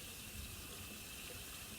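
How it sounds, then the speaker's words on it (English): Water is poured into a rice cooker while making sushi rice: a steady, continuous rushing stream, like a running tap, close and unbroken for a couple of seconds. "we'll add a couple of cups of water to this thing"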